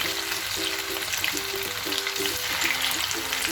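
Chicken pieces for Chicken 65 sizzle steadily in hot oil, a dense, even crackle with no voices. A low, wavering hum runs underneath in short repeated bursts.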